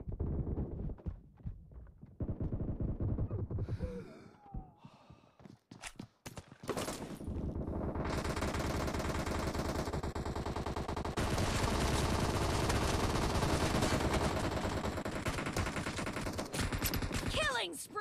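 Gunfire in a PUBG Mobile team deathmatch, with bursts of automatic rifle fire and loud shots over a dense game soundscape with footsteps and effects, sustained and loud through most of the stretch.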